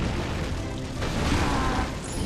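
Hot Head's fire attack in Skylanders Giants smashing breakable objects: a loud, dense, sustained roaring blast that fills the whole stretch without a break.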